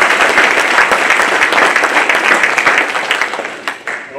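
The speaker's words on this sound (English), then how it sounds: "So round of applause for Gavin" Audience applause at a high school spring signing day, a steady round of clapping from a crowd in a room that tapers off toward the end.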